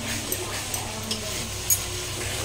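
Potatoes fry in a pan with a low, steady sizzle while a utensil stirs them and taps the pan a few times, giving sharp knocks over the continuous frying noise.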